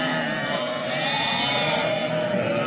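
A flock of ewes with lambs in spring bleats continuously, many overlapping calls forming a dense, steady chorus at close range.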